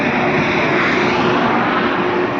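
A loaded Mahindra vehicle's faulty engine drones with a steady, rough growl, close and constant with no voices over it.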